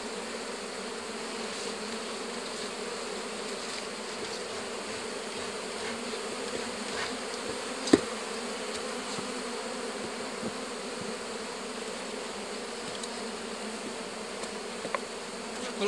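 Honeybees buzz on a hive frame, a steady, even drone of many insects close by, with no voices and only a faint click partway through.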